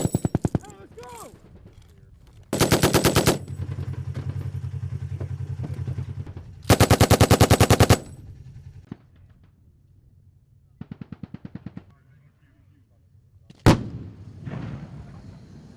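During a paratrooper training exercise, a machine gun fires several long, rapid bursts of sharp shots with pauses between them, one sudden single bang near the end, and shouted voices in between.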